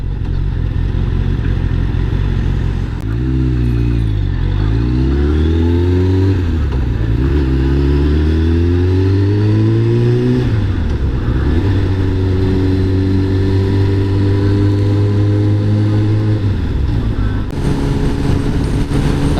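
An old motorcycle being ridden revs hard close by, its engine note climbing and dropping through repeated throttle pulls before settling into a steady drone, with occasional faint talk underneath.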